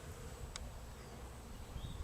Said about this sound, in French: sur un arbre, un seul arbre, il y a peut-être une centaine d'abeilles en train de butiner.